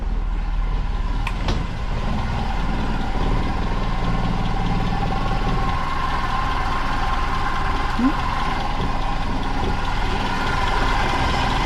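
A Land Rover Series 2A engine, just converted from a dynamo to an alternator, runs at a steady close drone with a low rumble, holding even throughout.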